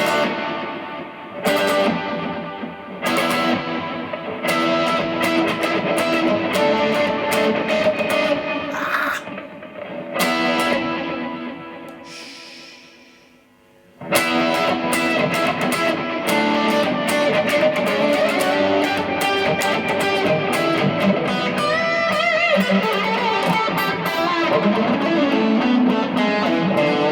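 Electric guitar through a Kemper profiler's ping pong delay, with chords and notes echoing in repeating trails, loud throughout apart from a brief fade in the middle, no talk.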